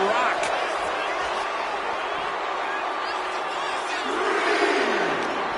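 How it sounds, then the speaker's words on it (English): A capacity arena crowd roars during a wrestling match in the video game WWE 2K26, a steady, loud wash of cheering and shouting that runs throughout beneath a commentator's voice. "This capacity crowd on their feet."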